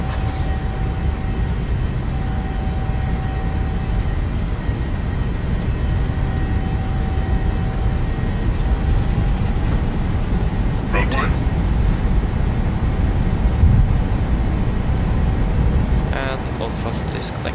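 In Microsoft Flight Simulator 2020, an airliner's engines hold a loud, steady roar with a constant low rumble and a faint whine during the takeoff roll. Voices talk over the engine noise.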